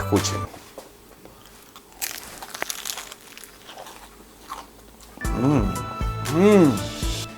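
Crunchy bites and chewing of a crispy fried spring roll with sweet and sour sauce up close, followed by someone talking loudly near the end.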